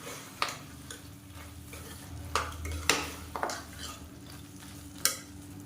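Chicken for biryani stirred in a pot, a spoon scraping and knocking against the metal in irregular sharp clicks over a soft sizzle.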